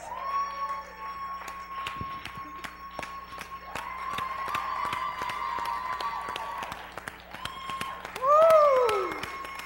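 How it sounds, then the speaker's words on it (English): Scattered audience clapping at a motivational talk patters steadily under a sustained tone, then a loud whooping cheer rises near the end. "Give him a round of applause."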